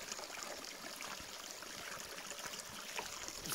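A river runs through an Irish forest, giving a faint, steady watery rush with soft trickling throughout and no voices.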